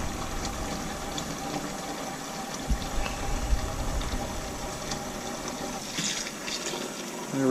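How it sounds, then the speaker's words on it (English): Steamy hot water pours steadily into a container in a kitchen, a continuous gushing fill lasting several seconds with no speech over it. "And some hot water, some nice steamy hot water."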